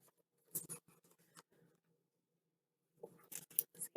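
Scissors snip a paper mat at close range, a quick cluster of short cuts, then a pause, then another burst of snipping.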